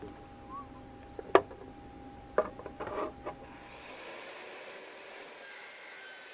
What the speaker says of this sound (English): I'm sawing these pallets in half